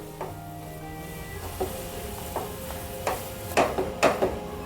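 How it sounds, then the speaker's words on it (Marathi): Spoon scraping and stirring a thick rava besan barfi mixture with cardamom powder in a pan, soft irregular strokes and clinks that grow slightly louder toward the end, with no voices. "फक्त एक मिनिटभर आपण हे मिक्स करून काढून घेऊया"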